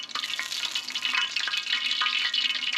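Coconut shrimp frying in oil on a FireDisc cooker, giving a loud, continuous crackling sizzle with bright popping bursts and no voices.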